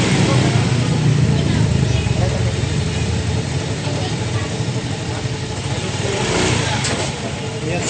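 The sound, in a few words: motorcycle engine started and revved after rear axle bearing repair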